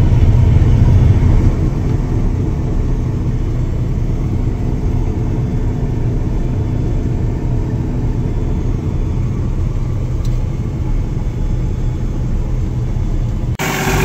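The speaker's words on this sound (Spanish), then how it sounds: "¿Te suena el escape, Macrosa?" A Deutz tractor engine's exhaust rumbles at a steady idle, a low continuous drone heard close by for the whole stretch, with no talking.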